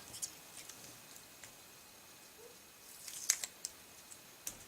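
Scissors trimming the end piece off a paper banner for a handmade card: a few faint, close clicks and snips, clustered near the end, against a quiet background.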